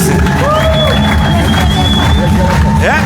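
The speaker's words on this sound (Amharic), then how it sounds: "ለእግዚአብሔር ክብር አጨብጭቡ።" A church congregation at a prophecy service cheers and whoops in a loud, dense crowd roar, with clapping blended in and high whistle-like calls rising above it for about three seconds.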